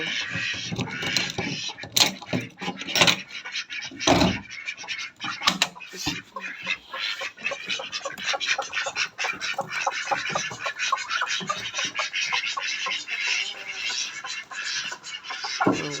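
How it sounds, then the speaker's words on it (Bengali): A flock of ducks on a farm, kept together with chickens and a rooster, quacks busily and continuously as the birds are released, with louder bursts of calls and some clatter standing out over the steady chatter. "আজকে হাঁসগুলোকে ছেড়ে দিব"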